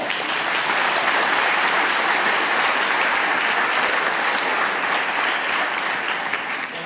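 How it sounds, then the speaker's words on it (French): A theatre audience at a stage musical applauds a new champion with loud, sustained, even clapping that fills the room for several seconds, steady throughout with little talk over it. "Thèbes, applaudissez votre nouveau champion!"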